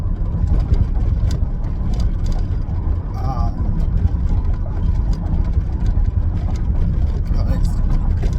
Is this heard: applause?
no